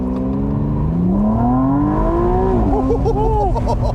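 A 2025 McLaren Artura Spider hybrid supercar accelerates from inside the cabin, its engine note rising steadily in pitch and then shifting near the end, loud and continuous with no talk over it.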